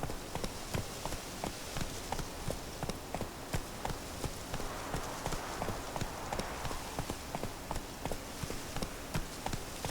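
Steady clip-clop of horse hooves in the video game The Witcher 3, at a brisk, even rhythm, fairly quiet and continuous with no other sounds.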